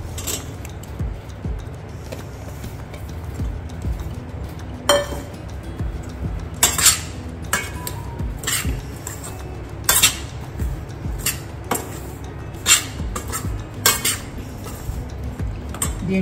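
Vegetable pieces for Telugu pesara avakaya pickle are dropped into a bowl, giving a series of sharp clinks and clatters that come every second or two over a low background.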